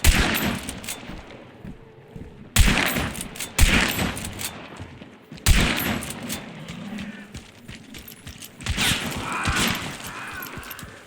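Gunfire in the video game Hunt: Showdown: several loud, sharp shots at irregular intervals, each trailing off in a rumbling echo, with quieter game noise between them.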